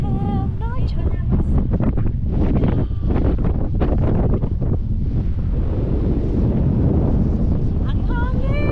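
Strong wind buffeting the microphone on Lamma Island in a continuous loud roar, with voices talking faintly beneath it.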